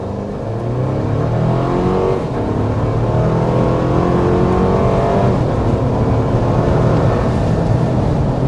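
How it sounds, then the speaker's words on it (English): A 2025 Toyota 4Runner TRD Sport SUV engine roars steadily as it accelerates hard up to 60 mph, a loud, continuous drone with rising revs and no voices. "we want to start with a hard acceleration"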